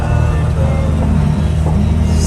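Car driving along a road toward Rottweil during a Fasnet carnival outing, a loud steady engine and road rumble filling the cabin without pause.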